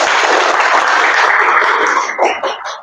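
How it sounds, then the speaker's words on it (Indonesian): A class of students claps together, a dense, loud burst of applause that holds steady before tapering into a few scattered claps. "tepuk tangan buat kalian semua"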